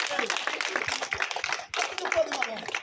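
Scattered clapping from a church gathering, irregular sharp claps over a few seconds mixed with voices and singing in the background.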